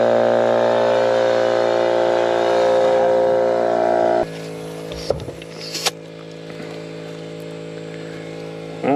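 Air compressor or pump running loudly and steadily while air is fed into the tires of a Michigan 55A loader with a 3-53 Detroit Diesel, then cutting off into quieter clanks and handling noises.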